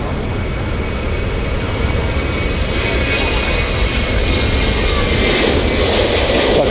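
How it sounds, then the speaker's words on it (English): A Ryanair jet roars loudly and steadily at Manchester Airport, a broad, sustained engine rush close by that holds for several seconds with no talk. "Good old Ryanair again."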